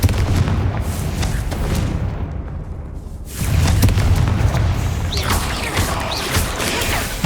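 Fiery Confringo and Bombarda spell blasts in the Hogwarts Legacy game burst one after another, booming explosions with crackling debris and a short lull before a heavier blast returns, loud and near.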